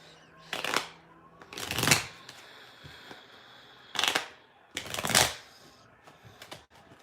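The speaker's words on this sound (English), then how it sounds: "Let me see if I can get some timing with the playing cards." Playing cards riffle-shuffled for a tarot reading, four crisp bursts of flapping and rattling, each about half a second long, with quiet pauses between, close and fairly loud.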